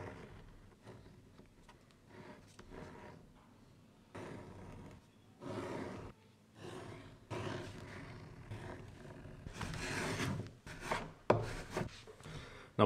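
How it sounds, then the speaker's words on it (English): Leather being skived thin on its back side for a toolbag pocket, heard as a run of close, dry rasping scrapes in short repeated strokes, growing louder and denser toward the end, with no talking. "you want to mark the backside of the leather, skive it down so it's nice and thin"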